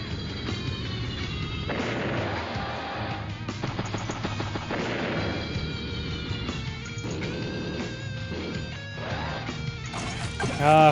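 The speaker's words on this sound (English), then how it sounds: "Rockets firing away." Rockets fire in a match of Advance Wars: Days of Ruin, giving a dense run of game sound effects with repeated blasts and rattling bursts over background music that lasts the whole clip, ending in a louder hit.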